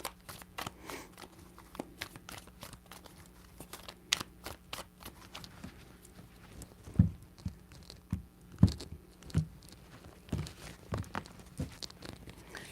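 Tarot cards being shuffled three times, giving soft papery riffles and crisp slaps in uneven bursts, close and fairly quiet, with no talking.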